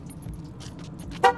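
An Infiniti G37 gives one short, bright chirp as it locks from the key fob, preceded by faint key jangling and low car idle ambience.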